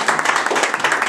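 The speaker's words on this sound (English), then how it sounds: "Please clap for her." A small audience at a career-building workshop claps briefly, a steady patter of hands heard close and loud with no talk over it.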